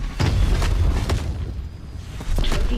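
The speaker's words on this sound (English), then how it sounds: "Use your cannon on those tanks." Heavy booming blasts of cannon fire hit tanks in the Call of Duty Advanced Warfare campaign, several deep explosive thuds in quick succession over a dense, loud rumbling battle bed.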